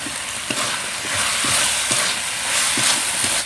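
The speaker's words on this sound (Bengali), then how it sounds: "আর দেবো ভেজে যে কাঁকড়াগুলো রেখেছিলাম সেই কাঁকড়াগুলো দিয়ে অল্প একটুখানি নাড়াচাড়া করে নেব" Crabs stirred in hot oil with cumin and crab fat, a loud continuous sizzle with rhythmic scraping strokes of the spoon roughly every half second throughout.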